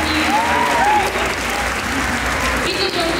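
An audience gives a round of applause, steady dense clapping lasting a few seconds with voices mixed in underneath.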